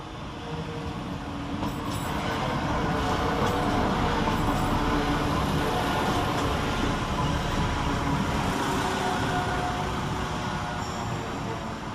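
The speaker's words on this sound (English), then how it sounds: "Next into the station is 172-334, working the 11 o'clock West Midlands Railway service from Whitlock's End to" A West Midlands Railway Class 172 diesel unit pulls into Birmingham Moor Street station, a steady loud rumble of engine and wheels with faint rail squeal, continuous throughout with no talking.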